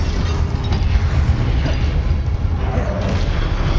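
A Confringo blasting spell explodes in the video game Hogwarts Legacy, a steady, loud, deep booming rumble with crackling debris-like noise throughout and no clear pauses.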